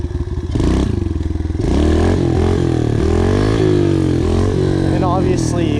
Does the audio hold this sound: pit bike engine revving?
yes